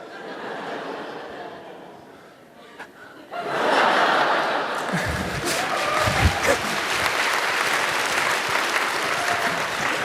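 At an anime convention panel, quiet murmuring gives way to a burst of sustained audience applause, loud and continuous, with scattered chuckles mixed in.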